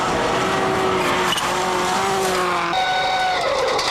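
Onboard a Subaru rally car on a stage at Rally New Zealand 2000: a loud, steady engine note rising and falling through gear changes, with tyre noise throughout.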